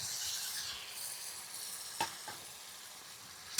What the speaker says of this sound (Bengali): এই যে এখন আমি ডিম আর আমড়াগুলো দিয়ে দিলাম